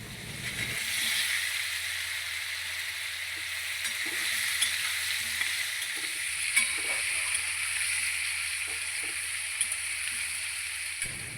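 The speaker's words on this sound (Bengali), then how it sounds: "এরপর টমেটো ও আলুগুলো দিয়ে পাঁচ মিনিটের মতো ভেজে নিতে হবে" Tomatoes and potatoes fry in oil for a black pepper dum aloo, giving a constant soft hiss with occasional light spoon taps, heard close and with no talking.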